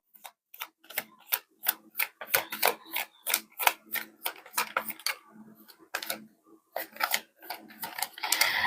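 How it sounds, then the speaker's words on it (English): Tarot cards being shuffled by hand, a rapid run of crisp riffling clicks and flutters, close and fairly loud, coming in quick bursts with a few brief pauses. "Let me shuffle one more time, though."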